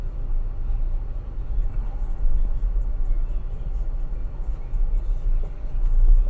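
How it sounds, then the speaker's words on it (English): Steady low rumble of cars moving along a busy Kansas City street with speed humps, a continuous close traffic drone with no clear single pass-bys, no talk over it. "Lots of cars, at least."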